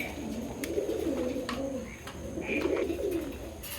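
A large male fancy pigeon, one of a big-bodied show pair kept in a small cage, coos in low, rolling phrases that swell and fade twice, close to the microphone with faint chirps from other birds around it.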